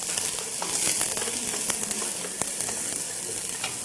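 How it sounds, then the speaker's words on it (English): Onions sizzle steadily in hot coconut or grapeseed oil while being sautéed for a vegan Filipino dish, a loud continuous frying hiss with scattered pops and crackles and no talking. "Love the sizzle."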